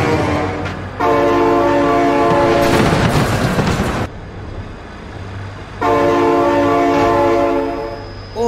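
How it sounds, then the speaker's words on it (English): Train passing close by, with loud sustained horn blasts in two long bursts separated by a rumble of wheels and rail clatter, heavy and near. "my god, train!"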